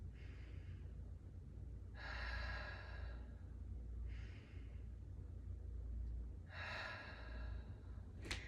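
Slow, audible breaths during an abs and Pilates-style workout, four long airy exhales spaced a couple of seconds apart, close and fairly soft over a low background hum.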